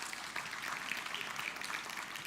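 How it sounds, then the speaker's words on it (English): Applause from an audience at an opera gala evening, a steady dense wash of clapping that holds evenly throughout without a break, heard alone with no talk over it. "Give yourselves a good round of applause."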